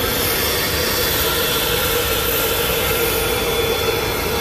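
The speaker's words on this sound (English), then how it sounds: "On the private jet, on tour." Steady, loud broadband roar of a private jet's engines heard from inside the cabin while on tour, a constant rushing drone with no talk over it.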